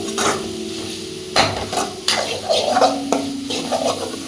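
A spoon scrapes and stirs a sizzling vermicelli biryani masala in a pan, with several distinct clanks against the metal over a continuous close frying hiss.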